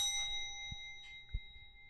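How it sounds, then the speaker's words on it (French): Small bell rung in someone's honour, a bright sustained ringing tone with overtones, struck again with soft knocks, close and faint in a quiet room without talk. "Je faisais de la cloche en son honneur."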